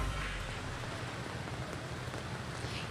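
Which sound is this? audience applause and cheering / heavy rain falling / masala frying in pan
heavy rain falling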